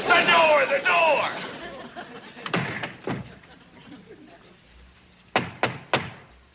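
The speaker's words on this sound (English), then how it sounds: "Pyle, hit that hatch." Knocking on a wooden hatch-style door, first a few hollow thunks under voices, then a crisp run of three sharp raps near the end, fairly close and distinct.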